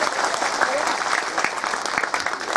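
Audience applause after a stage drama performance, steady dense clapping from a crowd throughout, fairly loud and continuous with no talk over it.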